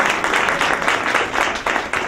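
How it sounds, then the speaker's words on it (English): A small audience at a church ceremony claps in a steady, moderately loud round of applause that carries on without pause. "Let me just give Teresa another hand of applause"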